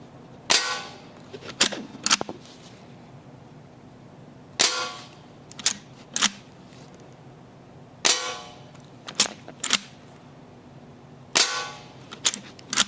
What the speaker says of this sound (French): Il y a 8 coups. Je veux les tirer tous les 8.